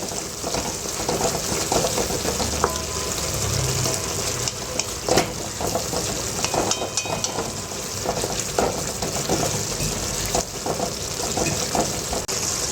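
Onions fry in a pan for an ambadi leaf vegetable dish with a continuous close crackle and sizzle. Scattered scraping knocks from stirring come through, with no talking.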